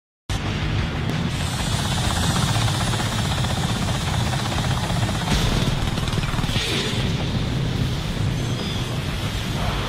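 A helicopter in the anime Armitage III Dual Matrix gives a loud, continuous rotor roar with a rumbling low end, staying close and steady for the whole stretch.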